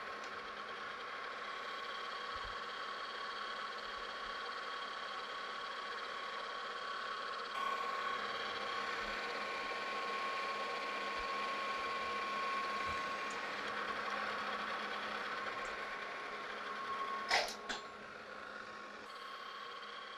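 A metal lathe runs at about 518 RPM machining a cross bracket for a Frick steam engine restoration, giving a steady mechanical drone and whine with faint ticks and a brief clank near the end.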